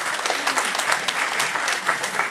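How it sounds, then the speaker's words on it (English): An audience at a jewelry show gives loud, lively applause, with dense claps rising and falling and no talking over it. "So give her another round of applause."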